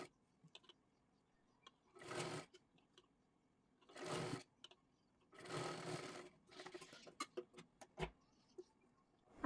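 A sewing machine stitches piping on a size 38 princess-cut blouse. Several short, loud whirring bursts are separated by quiet pauses and soft handling clicks.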